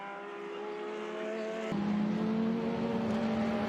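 Vintage race cars at an SVRA race at Road Atlanta, a loud droning engine note that steps up sharply in pitch partway through as a car accelerates past, with a steady roar and no speech.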